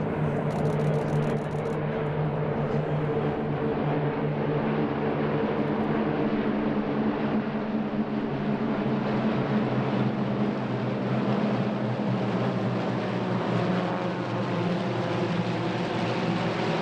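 Warbird aircraft flying in a mass arrival at the EAA AirVenture Oshkosh airshow, a continuous loud droning engine roar holding steady for the whole stretch with no talking.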